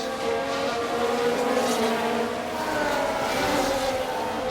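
F1 cars race in the F1 Manager 24 video game as Piastri overtakes Perez, a continuous high engine whine with layered tonal drone, steady and fairly loud, without talk.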